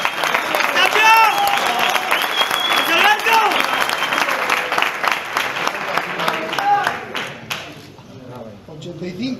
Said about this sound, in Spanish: Y recibimos con un fuerte aplauso a Alberto Tapia.